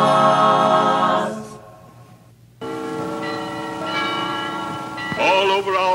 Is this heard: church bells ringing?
yes